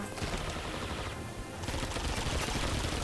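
Sustained automatic gunfire in a zombie-shooting video game, a loud, dense stream of rapid shots with no pause, growing slightly heavier partway through.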